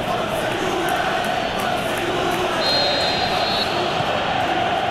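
Stadium crowd during a PES 2018 Champions League football match between Juventus and Young Boys, a constant loud roar and murmur of thousands of fans with a whistle-like tone partway through, commentary talk over it.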